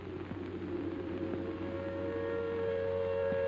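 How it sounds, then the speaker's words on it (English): An air raid siren wails in a war-damaged German city in 1945, a sustained rising tone heard from a distance over a low background hum. "the air raid siren wails again"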